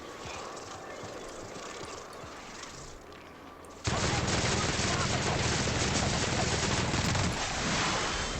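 A light machine gun firing in the video game The Outer Worlds, a quieter background rattle that jumps into a loud, continuous stream of rapid shots about halfway through, close and sustained.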